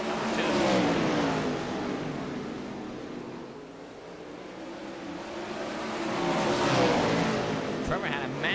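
410 outlaw sprint cars racing at Cedar Lake in the iRacing game, engine roar swelling as cars pass close, fading, then rising again as another pass comes by.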